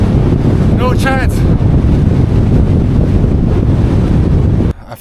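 Strong gusting wind roars and buffets the microphone on a remote road in China during a bike ride, loud and continuous, with a brief vocal sound early on before the roar drops off at the very end.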